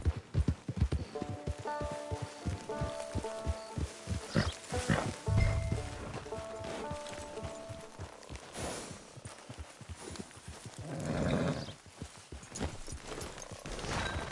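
A horse in the video game Red Dead Online walks up to a camp with rhythmic hoof clip-clops, snorts and tack rattles, with game ambience and some louder breathy bursts.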